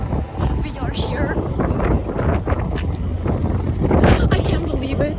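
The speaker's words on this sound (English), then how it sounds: "It's cold. It's windy." Loud cold wind at EDC Las Vegas 2022 buffets the microphone with heavy low rumbling gusts, while indistinct voices murmur underneath.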